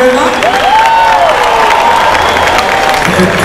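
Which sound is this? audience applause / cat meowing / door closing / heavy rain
audience applause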